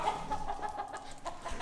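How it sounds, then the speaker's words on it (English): Several hens cluck in short, repeated bursts inside a workshop, close by and fairly steady, with no talking. "there's actually chickens in the workshop"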